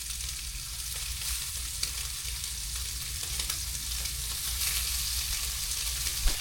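Fish seasoned with salt and pepper sizzles steadily in hot oil in a cast iron pan, a loud continuous crackle with brief pops and no talking.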